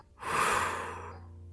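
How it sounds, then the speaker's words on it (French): A single deep breath out during a guided relaxation exercise, starting abruptly and trailing off into a long, close, breathy exhale. "souffle pour chasser toutes les tensions"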